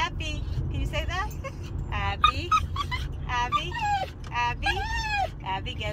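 A poodle in a car whimpers and yips in a run of high, wavering whines and short cries, close and fairly loud over low road rumble.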